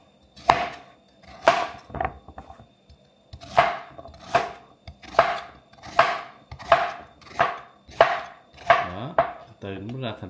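Red radish is cut into thick pieces with a knife on a cutting board, for a bánh canh noodle soup. About a dozen crisp, close chops fall in a fairly even rhythm, with no talking.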